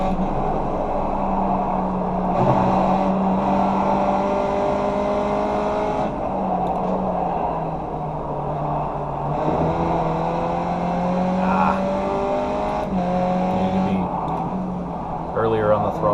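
A race car engine drones and revs on the Circuit Park Zandvoort track in the iRacing sim, pitch climbing and falling through gear changes, with someone talking over it at times.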